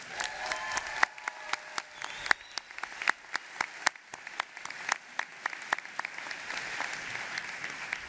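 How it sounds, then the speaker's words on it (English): Graduation audience at a college commencement ceremony applauding: dense, steady clapping from a large crowd in a hall, with sharp individual claps standing out over the wash. "So please give yourself a wonderful round of applause."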